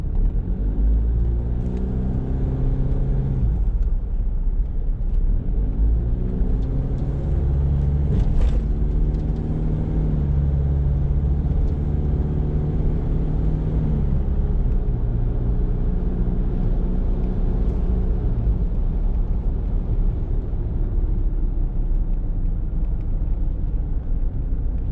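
A 1993 Mitsubishi Pajero 2.8TD with the 4M40 turbodiesel engine runs steadily, giving a continuous low, throbbing drone that stays close and even for the whole stretch, with no talking.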